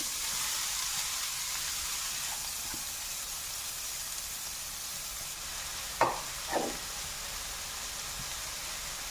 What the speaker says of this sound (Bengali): খুব বেশি ভাজবো না আমি হালকা যখন ভাজা হয়ে যাবে